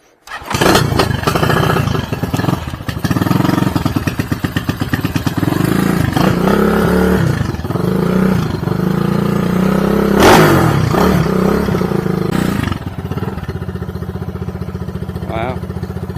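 A CG250 motorcycle fitted with a Kipa 28mm flat slide carburetor starts and idles loudly up close with a rough, throbbing rumble, then revs in a few surges and settles back to idle, while someone talks over it.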